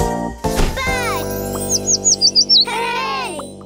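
Bright, rapid bird chirps in a quick run of five short tweets, loud and close, set among cartoon sound effects and a brief voice in a children's animal show.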